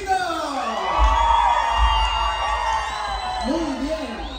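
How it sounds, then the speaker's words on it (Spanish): A crowd cheers and whoops with shouts rising and falling for a judge being introduced at a live entertainment event, while loud music with a deep bass beat plays underneath. "Ok, quiero que por favor le demos un fuerte aplauso a nuestro primer jurado, Huichito."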